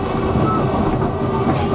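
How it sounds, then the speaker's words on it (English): A mountain railway train rumbles along, its wagons giving off a dense, close, continuous rolling roar with rattling wheel noise. The sound is brief and constant, with no voices. "Now this is what you call a mountain railway."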